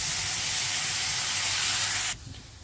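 Tamarind water poured into bitter gourd frying in a pan gives a loud, steady hiss of sizzling and spray that cuts off abruptly near the end.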